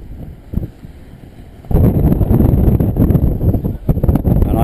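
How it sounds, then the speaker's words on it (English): Strong, gusty, turbulent wind on a kitesurfing beach in El Médano. Moderate buffeting suddenly swells into a loud, sustained roar of wind hitting the microphone, with rumbling surges that continue to the end. "Not even the windsurfers can hold the gust in the sail."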